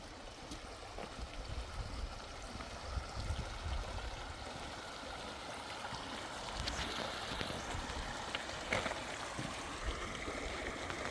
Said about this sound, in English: we thought we'd stop here and kind of see what Humbug Creek looks like